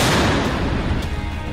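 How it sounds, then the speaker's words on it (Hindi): A German PzH 2000 155 mm self-propelled howitzer fires, a dense, loud low rumble of artillery blast that fills the short stretch and slowly decays, heard without talk. "ये तोप 1 मिनट में 155 mm के 9 गोले दाग सकती है।"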